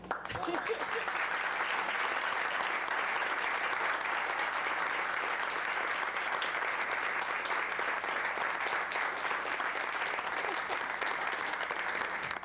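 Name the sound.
applause for young people at a city council meeting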